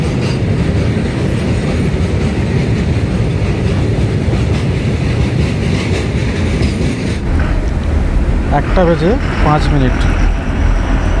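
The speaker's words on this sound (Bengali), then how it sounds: "পুরো 4 মিনিট সময় লাগলো ব্রিজটা ক্রস করতে" Loud rumbling road noise as an NBSTC government bus crosses the Farakka bridge, steady rolling roar with rhythmic clatter from the bridge structure and a brief squeal near the end.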